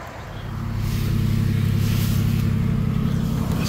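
Car engine idling then rising to a steady, loud low rumble as the vehicle is driven off a car-hauling trailer, close by with no talk.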